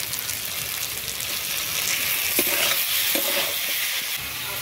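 Fish masala with cumin and coriander paste sautéing in a pan in a Bengali village kitchen, a steady, dense sizzle with occasional soft stirring scrapes, close and continuous with no talking.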